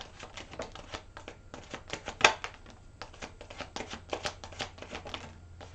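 Tarot cards are shuffled by hand in quick, soft riffling bursts with one sharper snap midway, close and fairly quiet, with no voices.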